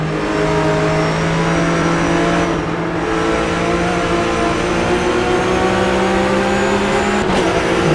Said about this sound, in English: Fantastic sounds of these cars.